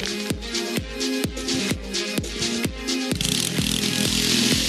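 A drill in a prison escape video game grinds in repeated bursts, each starting with a sharp hit, then settling into a steady, loud whirring buzz for the second half.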